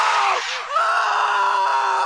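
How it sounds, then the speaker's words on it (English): A person in an animated horror story lets out one long, loud, sustained scream that wavers in pitch as it drags on. "it ran off with Chris screaming"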